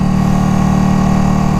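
A Ducati motorcycle with its stock exhaust runs with a loud, steady, deep engine rumble heard close up, without pause over a brief moment.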